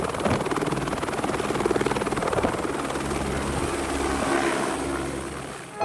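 A helicopter flies up toward the summit of the Matterhorn near Zermatt, Switzerland, its rotor chop loud and steady throughout before easing off near the end.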